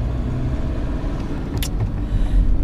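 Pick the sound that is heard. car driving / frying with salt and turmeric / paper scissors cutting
car driving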